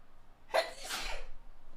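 A single close, sharp sneeze bursts out with a quick inhaled build-up and then fades, with faint room noise before and after.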